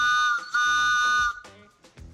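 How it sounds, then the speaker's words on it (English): Two long, piercing train whistle blasts with a chord-like tone, loud and close, followed by short softer toots. "That's definitely a train whistle."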